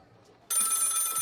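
A ringing phone in a video game sounds suddenly after a quiet moment, a bright steady electronic trill holding at close range.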